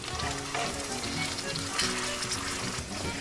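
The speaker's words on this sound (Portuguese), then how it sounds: "Juntamos também a polpa de tomate e deixamos refogar um bocadinho." Tomato pulp sautéing in olive oil gives off a steady, dense sizzle and crackle at close range, with faint stirring knocks, for a stew of beans with fresh sausage; no talking.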